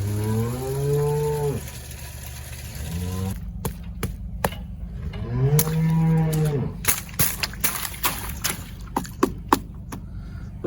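Dairy milk cows on a farm in cold frosty weather give two long, loud mooing calls nearby, followed by scattered knocks and clattering in the shed.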